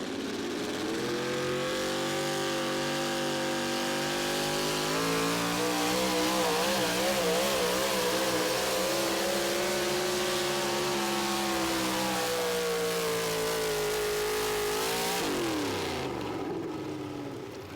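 The Patriot pulling truck from Georgia roars at an NTPA Grand National tractor pull in Tomah, Wisconsin: a loud, sustained, high-revving engine howl whose pitch rises and wavers during the run before dropping sharply as the throttle is pulled back.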